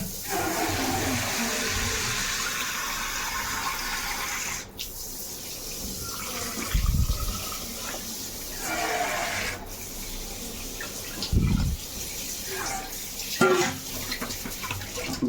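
Water pours into a pot of cooking tomato dal, a continuous gushing splash at close range with a few thumps and clatters breaking through, and no talk.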